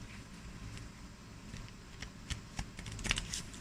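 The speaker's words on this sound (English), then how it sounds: "let me go ahead and shuffle my first deck" Close, steady riffling patter of tarot cards being shuffled, with a few crisp flicks toward the end over faint background hiss.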